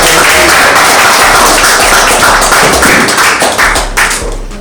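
A small group applauds at a behind-the-scenes music branding event in Kansas City, with steady, dense clapping close by that thins and tapers toward the end.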